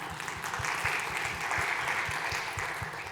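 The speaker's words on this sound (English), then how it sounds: "Give him a round of applause." Audience round of applause at a law firm marketing event, a dense steady wash of many hands clapping that fills the room at a constant level throughout.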